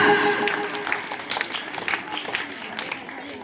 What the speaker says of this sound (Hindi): प्रसिद्धि इस बच्ची के लिए जोरदार तालियां